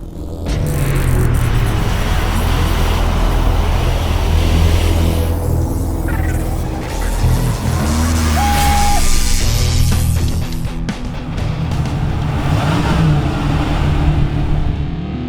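A 1989 Chevrolet Camaro RS, originally a barn find, rumbles loudly nearby with its engine revving and settling in waves, a deep continuous roar with brief rises in pitch.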